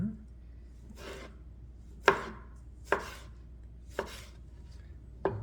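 Clementines with the skin on sliced with a knife, with five separate crisp cuts at a slow, uneven pace, each ending in a sharp tap on the cutting board, close and quiet otherwise.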